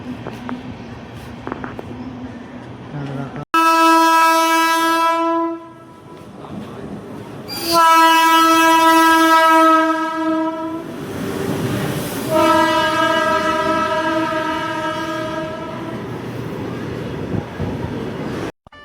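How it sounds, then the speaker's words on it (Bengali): At a large railway station, an arriving train sounds its horn in three long, loud blasts separated by short pauses, over a low rumble of rail and station noise. "সেপাশে একটা ট্রেন আসছে।"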